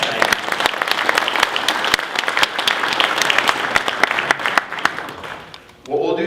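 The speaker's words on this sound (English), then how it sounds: "I'd like you to applaud for yourselves." Audience at a Corvette Racing seminar during the 2015 NCM Bash claps steadily with sharp individual claps standing out, the applause thinning and fading near the end before a speaker starts talking.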